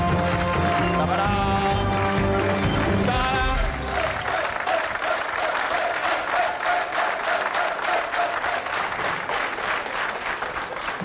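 Studio audience applause on a French television game show, loud sustained clapping that rises under a short burst of music at the start and then carries on alone, fairly even to the end, with a brief spoken flourish.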